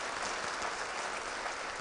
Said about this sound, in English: she needs another round of applause for a second